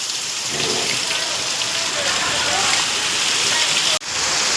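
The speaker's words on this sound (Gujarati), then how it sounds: "ધમાકેદાર વરસાદ" A loud, unbroken downpour of heavy rain roars close by, with a brief dropout near the end before the rain resumes.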